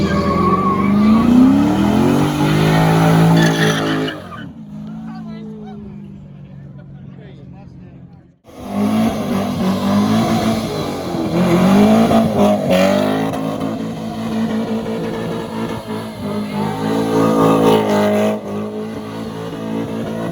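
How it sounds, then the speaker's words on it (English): A car drives and revs at a Pittsburgh car meet with burnouts and donuts, loud engine surges and tire squeal that drop away briefly, then build again, with people talking nearby. "Literally right as I started recording. It's David driving."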